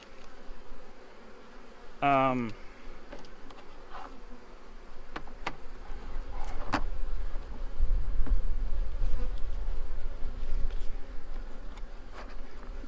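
Honey bees buzzing around an Apimaye hive during a transfer, a steady droning hum that grows louder and fuller partway through, with a few brief clicks and knocks and a short sharp buzz near the start.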